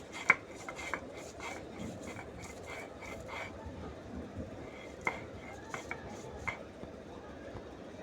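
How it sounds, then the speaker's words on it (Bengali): Soaked chana dal being ground by hand into a fine paste, heard as rhythmic rubbing and scraping strokes of stone on stone, fairly faint and close, under a voice talking. "একেবারে আম্মু মিহি পেস্ট করে বেটে নেবে এটা"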